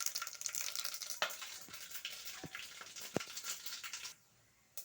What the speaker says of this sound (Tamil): அதுக்கப்புறம் பட்டை, லவங்கம், சோம்பு இதெல்லாம் போடணும்.